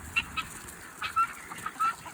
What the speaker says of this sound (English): There goes all the ducks and chickens.